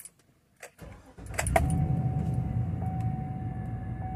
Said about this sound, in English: Fire this bitch up and see what it does.